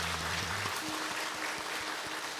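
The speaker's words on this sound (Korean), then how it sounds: "우리 뜨겁게 환영하는 박수 하겠습니다" Church congregation clapping to welcome newcomers at a Sunday worship service, a steady wash of moderate applause from the room, with a brief sustained tone at the start.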